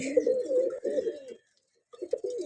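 A male pigeon coos in low, throaty phrases at close range, pausing briefly before another soft burst, with no talk over it.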